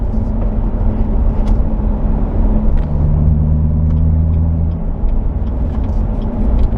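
A 2017 Corvette Grand Sport with a manual gearbox pulling in sixth gear at low speed, its engine a loud, steady low rumble with droning tones heard from inside the car.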